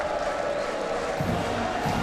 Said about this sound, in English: A raucous crowd here at the Big House